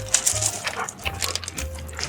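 A leashed dog at a campsite makes soft whimpering and yipping sounds, faint and intermittent against quiet outdoor background noise.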